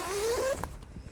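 A tent zipper on a Coleman Sundome tent is pulled in one smooth, close rasping run lasting about half a second, followed by faint rustling of the fabric.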